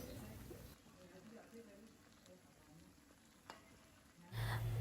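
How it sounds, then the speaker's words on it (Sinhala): Beaten egg mixture poured into a hot pan of chopped string hoppers with tomato sauce, sizzling steadily at low level, a brief clatter near the end. "දැන් අපි බිත්තර මික්සර් එක දාමු."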